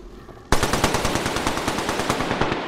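Automatic gunfire in the video game Apex Legends, a sudden loud burst of rapid, evenly spaced shots that starts after a short quiet lead-in and keeps hammering steadily to the end.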